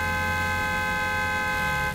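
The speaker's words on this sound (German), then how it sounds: "Ihr Hupen!" A car horn in the survival video game Scum, one steady, loud, sustained honk lasting nearly two seconds.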